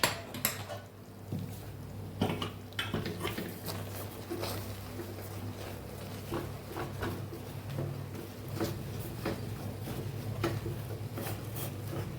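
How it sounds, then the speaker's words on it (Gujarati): Stirring thick Gujarati lapsi (cracked wheat) in a cooking pot, a steady run of soft scraping and clinking knocks of a spoon against the pot, close and moderately quiet with a low hum beneath. "લાપસી પાકે છે એને હવે આપણે હલાવી લઈશું"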